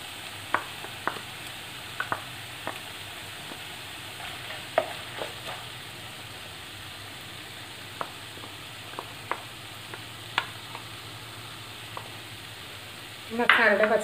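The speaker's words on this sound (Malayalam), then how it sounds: "മസാലയുടെ പച്ചമണം മാറണ വരെ നമുക്കൊന്ന് ഇളക്കി കൊടുക്കാം." Ground masala frying in a pan while being stirred for Kerala-style gobi manchurian: a soft continuous sizzle with sparse scraping taps of a spoon, ending in a brief louder clatter.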